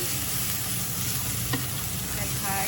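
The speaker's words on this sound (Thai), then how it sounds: "ผัดต่อนะคะ เพราะว่าเส้นมันยังไม่สุกดี" Instant noodles with milk stir-fried in a pan, a steady close sizzle with scraping stirs throughout and one sharper clink midway, no talking.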